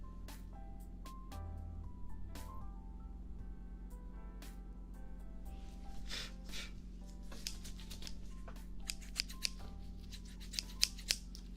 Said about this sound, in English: Cut some loose string here.